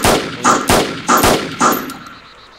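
Gunfire at a petrol station in the video game DayZ: four loud, close shots in an even rhythm, each with a sharp crack and short decaying tail, fading after the last.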